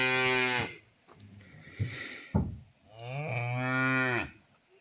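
A young calf moos twice, close and loud: a long harmonic bellow, a pause with shuffling and a few thumps, then a second drawn-out moo, no talk.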